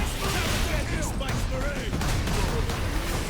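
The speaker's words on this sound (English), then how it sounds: "I don't think this plasma pistol's really doing it" Weapon fire from a plasma pistol in the Space Marine video game, a dense continuous battle din with overlapping bursts and chirping energy shots, steady and loud throughout amid game effects.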